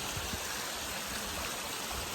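Steady rushing of the North Fork of the San Jacinto River, broadband water noise that fills the whole moment without pause, close by and fairly loud.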